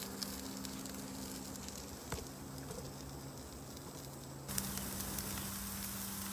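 Food sizzles steadily in a hot pan, a soft even crackle and hiss with a low electrical hum beneath and no talking, growing slightly louder near the end.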